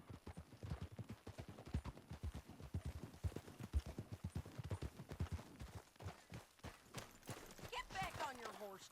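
Horse hooves clop in a steady, quick rhythm, close and moderately loud, with a brief whinny toward the end, in the video game Red Dead Redemption 2.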